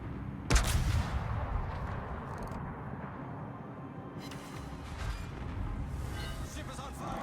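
World of Warships naval gunfire from a warship's turrets: one sharp, heavy boom early on, followed by a long rolling rumble of distant cannon fire and battle noise.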